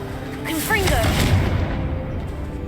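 A Confringo blasting spell fires in the Hogwarts Legacy video game, a sustained explosive burst with crackling, whooshing magical sweeps that rises quickly, holds loud for about a second, then tails off into a low rumbling residue.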